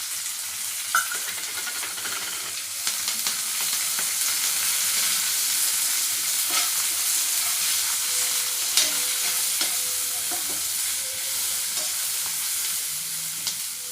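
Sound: frying in a pan with turmeric for ridge gourd chutney

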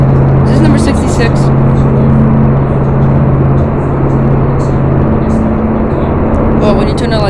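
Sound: race car engines in Roblox NASCAR video game race

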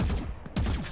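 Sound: gunshots fired in Valorant video game

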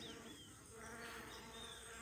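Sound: stingless bees buzzing

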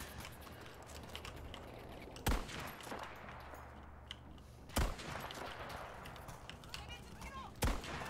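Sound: gunfire at a tank in video game Battlefield V

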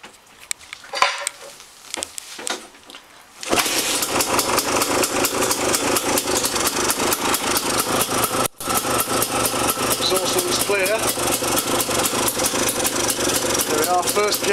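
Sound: Honda CRM motorcycle engine kick-started and idling

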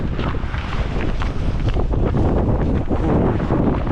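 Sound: strong wind blowing

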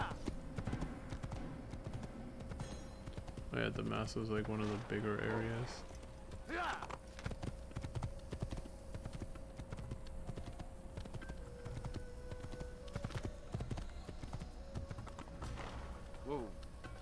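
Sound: horse hooves galloping in video game Assassin's Creed

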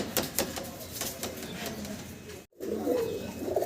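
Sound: pair of large Golla pigeons cooing

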